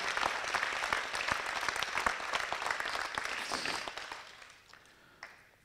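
A room full of people applauds steadily, the clapping gradually thinning and fading away toward the end.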